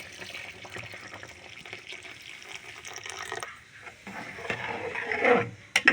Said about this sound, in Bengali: এর মধ্যে আমি দিয়ে দেব জাল করে রাখা দুধ।